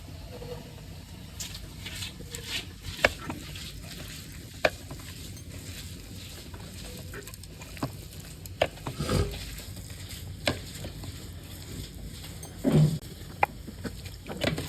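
Food frying in mustard oil for making bhorta in a village kitchen, a steady low sizzle with scattered pops and clicks of utensils throughout, fairly quiet and close.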